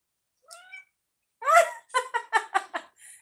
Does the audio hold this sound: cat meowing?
yes